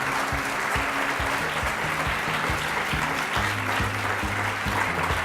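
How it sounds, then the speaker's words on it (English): Audience applause at a graduate talks closing session, a steady wash of clapping heard close and full, with low musical tones playing underneath. "let's give them another round of applause"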